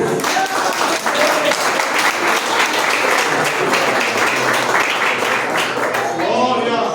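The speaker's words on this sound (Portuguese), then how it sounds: "com as palmas para Jesus" Congregation in a church claps for Jesus, a full, continuous round of applause with voices mixed in, steady and fairly loud throughout.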